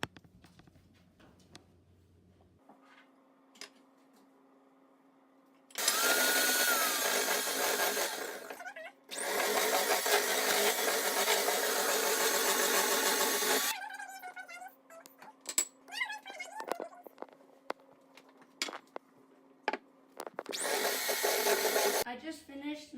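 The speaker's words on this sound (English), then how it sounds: "I just finished mixing together the liquid ingredients and the dry ingredients." An electric mixer blends donut batter in a big bowl, whirring loudly in three bursts of a few seconds each, separated by quieter clinks and handling noise with a faint background hum.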